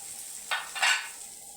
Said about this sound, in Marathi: चटणी फिरून घ्यायची मस्त.